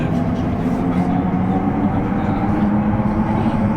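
Elizabeth line train running toward Heathrow Terminal 5, a steady low rumble and hum of the carriage in motion, continuous and fairly loud throughout with no talk.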